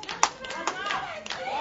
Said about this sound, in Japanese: お客様からの拍手、これが耳に届いたか、手拍子耳に届いたか。